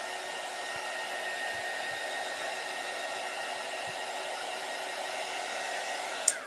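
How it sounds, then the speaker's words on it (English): A heat gun blows a steady, even hiss of hot air onto a plaster-covered craft surface made with burlap and fabric, holding constant for several seconds with no talking. "I'm going to hit it with the heat gun"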